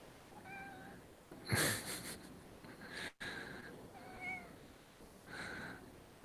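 A domestic cat meows several times in short, clear calls with pauses between them, close and fairly quiet against faint room noise.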